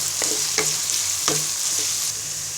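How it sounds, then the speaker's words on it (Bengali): Chopped onions frying in soybean oil, with a steady loud sizzle broken by three or four scraping stirs of a spoon through the pan. "পেঁয়াজটাকে ব্রাউন কালার করে ভেজে নিব।"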